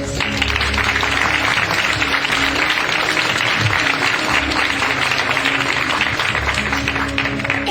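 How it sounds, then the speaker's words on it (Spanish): An audience at a conference gives a speaker sustained, loud, even clapping that fills the room with no pause and no voices. "Un gran aplauso para él."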